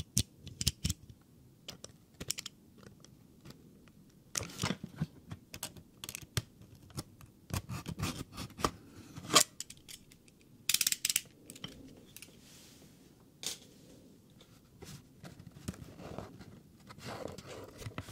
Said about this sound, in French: Une énorme paire de ciseaux de couture et un petit cutter de bureau.